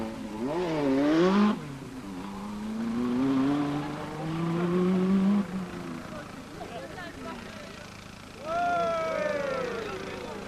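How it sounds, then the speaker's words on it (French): Renault 5 Turbo rally car on a Monte Carlo Rally stage in 1981, its engine rising and falling in pitch as it revs through gears, loud then fading, returning near the end, with a commentator talking over it. "voici la 5 Turbo de Ragnotti, dont on va apprécier la diabolique agilité"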